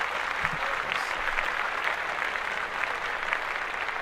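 Steady clapping from a group, a dense continuous patter of hands that holds at an even level throughout, a little distant.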